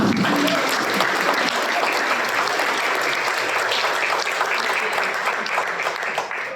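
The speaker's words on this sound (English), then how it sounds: "Give a round of applause" Sustained audience applause for a panelist at a panel and Q&A session, dense and steady throughout, tapering slightly at the end with a faint voice underneath.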